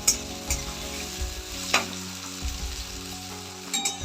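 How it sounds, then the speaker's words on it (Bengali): Three medium chopped onions sizzle in oil with bay leaves in a pan for Bengali kosha mangsho mutton curry, with a soft steady fry broken by several sharp spoon-against-pan scrapes and clinks as they are stirred. "পেঁয়াজটা একটু লাল লাল করে ভেজে নেব"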